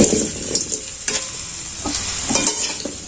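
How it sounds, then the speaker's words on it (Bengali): Raw mango pieces frying in hot oil for a sweet-sour pickle, a loud continuous sizzle broken by several sharp scrapes of a spatula stirring the pan, with no talking. "এটাকে আমি খুব ভালো করে ভেজে নেব"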